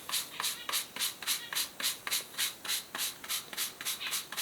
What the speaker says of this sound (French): Alors pour ça on utilise une petite brosse, une brosse dure. Et lorsque cette semelle est encore, mouillée, et ben on frotte.